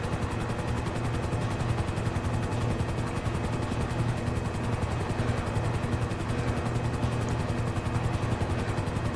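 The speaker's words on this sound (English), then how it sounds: "There's a second helicopter." Helicopter rotor noise from Grand Theft Auto V, a coast guard helicopter during a cruise ship rescue, with steady loud rotor thumping and engine drone running continuously throughout.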